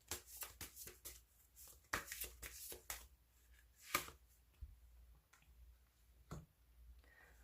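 Advice tarot cards being shuffled and drawn, quick clusters of soft flicking and snapping card noises in short bursts with quiet gaps between, close and faint, no talk.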